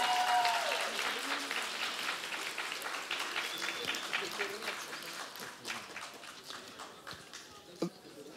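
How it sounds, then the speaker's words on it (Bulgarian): A concert-hall audience at a school awards ceremony applauds, dense clapping at first that thins and fades over several seconds, with scattered voices and a sharp knock near the end. "Внимателно, аплодисменти."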